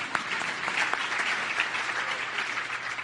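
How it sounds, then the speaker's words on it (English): A brief round of polite, moderately distant applause rises from the audience at a 2018 State of the City mayor's speech, with dense, even clapping throughout. "You don't have to clap too long for them, but just a little one because they're not here."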